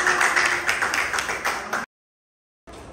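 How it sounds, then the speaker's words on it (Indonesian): A classroom of students claps together for a group that has just finished presenting, a dense patter of hands for about two seconds that cuts off abruptly, followed by silence and then faint room noise. "Oke, tepuk tangan."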